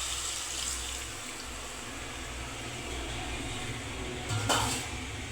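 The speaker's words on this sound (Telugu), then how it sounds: "ఆ వాటర్ వేసేసుకుందాం." Water poured into a pot of fish curry being cooked at home, a steady splashing gush running throughout, with a brief louder splash near the end and no talking.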